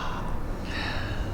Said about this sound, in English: Okay, so deep breath in.